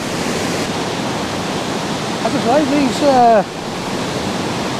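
A waterfall of white and orange water pouring over rock, a steady loud broadband roar throughout, with someone talking over it and a brief bird-like chirp partway through.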